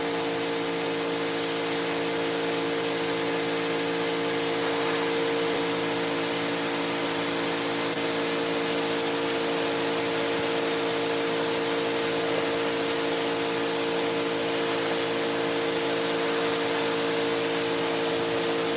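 A power washer sprays a rug's fringes in a steady, loud, continuous hiss of water that runs unbroken for the whole stretch, with no talking over it.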